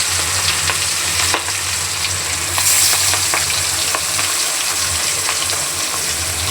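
Fish pieces fry in hot oil in a pan, a loud continuous sizzle and hiss with scattered sharp pops and crackles and no voices.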